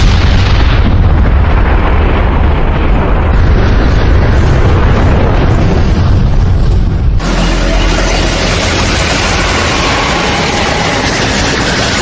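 A huge, roaring animated explosion from the anime Naruto that rumbles continuously and loudly, with a sudden shift midway into a brighter, hissing blast that keeps thundering on.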